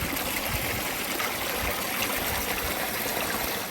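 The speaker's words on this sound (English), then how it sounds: "A considerable amount of water flows through the 7 wells in this beautiful Cotswold village in Gloucestershire." Water flows steadily through the Seven Wells in a Cotswold village in Gloucestershire, a continuous close rushing stream with gurgling, heard alone without voices.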